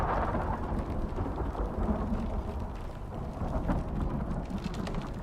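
Thunderstorm in the survival game Icarus, with dense rain and low rumbling thunder forming a continuous heavy roar that holds steady throughout.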